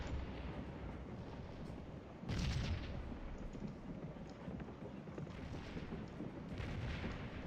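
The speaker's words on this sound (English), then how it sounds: "Got a gun right here that was getting shelled real bad" Artillery shelling in a Gettysburg-era Civil War battle game, with cannon fire and shell bursts rumbling steadily throughout, a heavier burst of booms standing out partway through over a continuous dense battle din.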